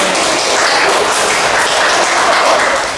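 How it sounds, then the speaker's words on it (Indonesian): Classroom audience clapping for a student group after their presentation during a computer and information technology teaching exam session, a dense steady wash of applause filling the whole stretch without speech. "Kita berikan aplaus untuk kelompok 2 dulu"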